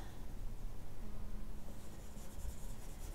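A stylus rubbing across a tablet screen while erasing in Procreate during digital painting of a horse, a continuous soft scratchy friction over steady background noise.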